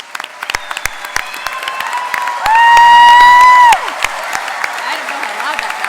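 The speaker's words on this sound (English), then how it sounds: "let's give a big round of applause for those participating in WAM 21 years or more" An awards ceremony audience bursts into a round of applause and cheering, loud and sustained, with whoops and a brief high electronic squeal cutting through the middle of the clapping.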